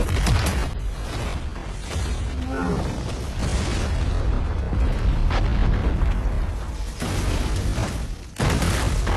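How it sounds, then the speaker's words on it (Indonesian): Deep, heavy booming bomb blasts rumble and crash repeatedly in a film action scene, with a sharp burst near the end. "ledakan bom dahsyat pun menghentikan peristiwa ini."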